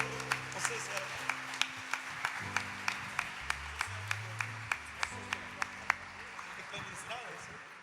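Steady rhythmic clapping from a church youth event crowd, sharp evenly spaced beats over a murmur of voices and background sound.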